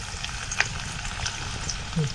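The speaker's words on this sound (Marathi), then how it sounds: "तेल टाकलंय. आता आपल्याला ह्याच्यात ही लसूण टाकायची आहे." Crushed garlic frying in hot oil in a pan over a wood-fired stove, a steady soft sizzle with a few small pops and faint stirring scrapes, close and alone.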